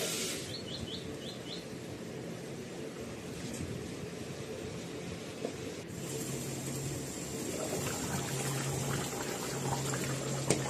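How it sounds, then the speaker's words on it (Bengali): Boiled hot water poured into a simmering mutton curry to make the gravy, a soft steady liquid rush and bubbling heard close up, with faint bird calls at the start and a low hum in the background. "তখন আমি যোগ করে দেব ঝোলের জন্য ফোটানো গরম জল"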